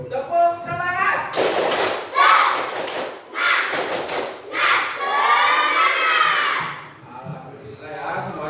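A school class does the tepuk semangat, a rhythmic clapping chant of bursts of group claps and shouted voices, loud and close, in several phrases with short pauses.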